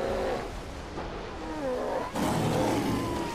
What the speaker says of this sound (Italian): due orsi che combattono